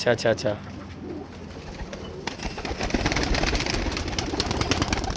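Sadhna breed pigeons with red eyes coo softly against a busy background of clatter and noise. A voice speaks briefly at the start.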